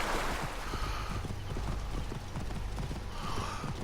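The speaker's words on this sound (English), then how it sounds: "I can hear his horse." Horse hooves in the video game Assassin's Creed Origins: a steady, rhythmic clip-clop of a trotting horse against a washy outdoor background that continues throughout, with no talk.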